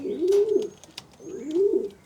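Racing pigeons in a loft give two soft, throaty coos about a second apart, close by, with faint chirps and rustling between them.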